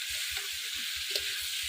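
Vegetables fry in a pan after turmeric is added, giving a soft, steady sizzle with a faint rhythmic low thumping underneath, fairly quiet and with no talking.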